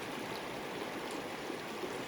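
A big river in the Yosemite backcountry flows in a soft, continuous rush, faint and steady with no voices.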